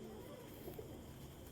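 A yellow-eyed pigeon coos softly, a faint, brief low call rising out of quiet background noise.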